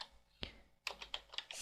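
A password typed on a computer keyboard: a single keystroke, a short pause, then a quick run of about six crisp, close clicks in an otherwise quiet room.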